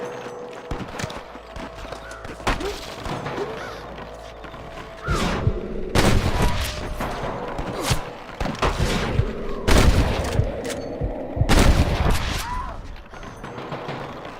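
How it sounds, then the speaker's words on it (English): Sporadic gunfire in a Wild West shootout in the video game Red Dead Redemption, with loud broadband bursts and booms around the middle, hoof clip-clop and a horse whinny in between, and occasional voices. "I can hear more gunshots."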